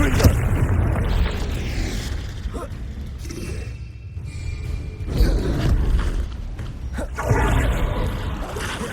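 Confringo fire spell blasts in Hogwarts Legacy on PS5 boom out in a couple of explosive bursts amid a busy, rumbling combat soundscape, loud and close with bursts of crackle between.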